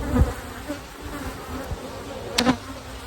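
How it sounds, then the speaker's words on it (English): A low, steady honey bee drone hums throughout as bees are shaken into a hive's bottom brood chamber, with a brief louder buzz passing close near the end and a thump at the start. "shake all the bees into the bottom brood chamber"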